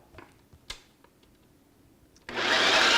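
A few faint clicks and taps come first, then a food processor blending peanut butter starts loudly and runs as a harsh, steady whir through the end.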